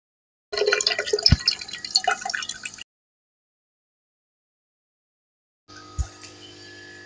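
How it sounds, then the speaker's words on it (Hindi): Kashmiri kahwa tea poured into a jug, heard as two separate bursts of splashing, trickling liquid close by, the first longer and the second brief, with silence between them. "तो अब इसको जी हम इस जग में डालेंगे।"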